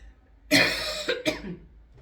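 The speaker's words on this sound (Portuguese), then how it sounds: "Eu não vou ficar pedindo desculpa pela tosse" A single harsh cough bursts out, followed quickly by a second shorter cough, close to the microphone in a quiet room.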